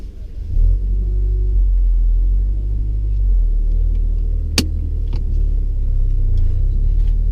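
A learner driver's car pulls away and drives on, its engine giving a low steady rumble heard from inside the cabin, with a single sharp click partway through.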